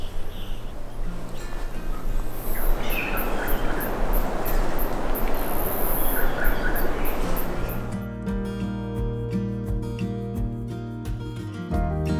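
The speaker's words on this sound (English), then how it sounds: "There is so much like bird song and animal noise in here" Stewart Island bush alive with dense insect trilling and chirping birds, a continuous close chorus with repeated high calls, later shifting to steadier tonal buzzing.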